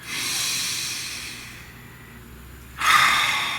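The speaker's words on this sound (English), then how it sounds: "take a nice deep breath" A deep breath is drawn in and let out slowly, a close airy inhale followed after a brief pause by a louder, breathy exhale, heard alone without talk.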